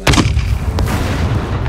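Gunfire from the survival video game SCUM, a few sharp, loud shots near the start and another around the middle, set over a dense, continuous rumble of battle noise.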